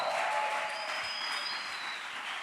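A church congregation applauds together during a Spanish-language sermon, a dense, steady wash of clapping from many hands, loud and sustained, with a voice faintly underneath.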